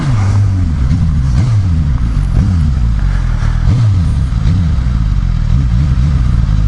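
A 2015 Suzuki GSX-S1000 motorcycle ridden through city traffic, its engine loud and close with repeated rising and falling revs over continuous wind and road noise, no talking.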